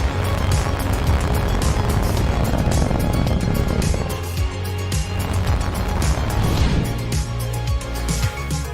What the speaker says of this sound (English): Ignition. Liftoff. Falcon 9 has cleared the tower.